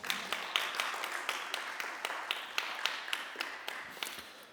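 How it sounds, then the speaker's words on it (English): Live audience clapping for the performers Gabby and Mikali, a steady run of fairly quick, sharp claps at moderate distance that holds at an even level for several seconds with no voices over it. "Can we give them another round of applause?"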